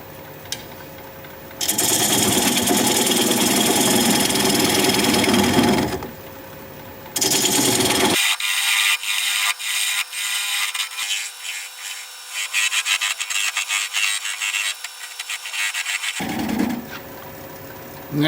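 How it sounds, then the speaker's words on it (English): A 3/8 inch bowl gouge cuts the tenon off a plum wood bowl spinning on a lathe at about 600 RPM, producing loud scraping bursts that start and stop, with quieter motor hum between cuts. "I'm going to take a 3/8 inch standard grind bowl gouge and begin to removing the tenon at about 600 RPM."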